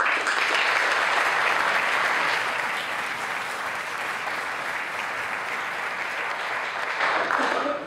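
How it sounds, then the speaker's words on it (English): A crowd applauds steadily at the grand opening of a LEED-certified winery tasting room, the dense clapping sustained at full strength for the whole stretch and swelling slightly again near the end. "So I owe him a big round of applause for it"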